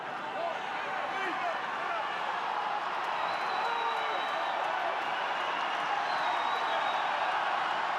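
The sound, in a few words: rugby stadium crowd applauding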